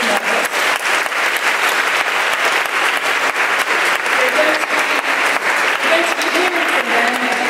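A crowd at an interfaith iftar gathering gives a loud, prolonged round of applause to welcome a panel, the clapping sustained and close, with a voice briefly audible over it.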